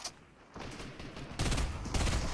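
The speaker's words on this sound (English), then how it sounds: "I just saw like 4 different gunshots." Gunfire in the video game Slurp Rush, a few sharp cracks followed by louder overlapping bursts of shots, fairly close, with no voices.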